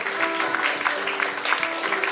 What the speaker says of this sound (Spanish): siempre terminamos dándole un aplauso al Señor